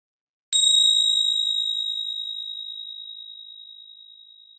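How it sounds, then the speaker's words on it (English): A meditation bell rung once at the close of a guided meditation, giving a bright struck ding followed by a long pure tone that slowly fades over several seconds in an otherwise silent room. "I'm going to ring the bell now."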